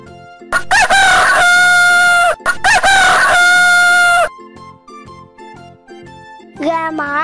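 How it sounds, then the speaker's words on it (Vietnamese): A rooster crows loudly twice in a row, long strained cock-a-doodle-doo calls close up, followed by softer clucking and another short crow at the end. "Gà trống."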